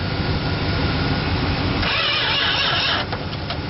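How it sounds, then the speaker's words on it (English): A 1971 Dodge Coronet being revived after sitting: steady cranking rumble gives way to the engine catching and running with a rough, noisy idle, close up and alone. "Well, fire her up, I guess. See if she starts."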